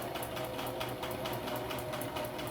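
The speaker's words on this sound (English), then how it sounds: "He's just sewing right along the back edge." A sewing machine stitches steadily along the back edge of a piece, running as a continuous close mechanical whir with a fast, even rhythmic pulse and no talk.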